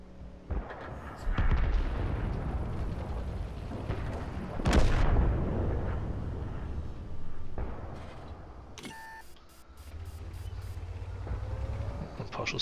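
Tank cannon fire in World of Tanks, several heavy booming shots spaced apart over engine and battle rumble, one especially loud blast near the middle, with someone talking in between.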